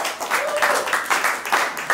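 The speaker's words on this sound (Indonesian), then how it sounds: "Ya, minta tepuk tangannya teman-teman." Brief burst of audience applause at a show's prize announcement, with rhythmic clapping arriving in pulsing waves, moderately close, with no one speaking.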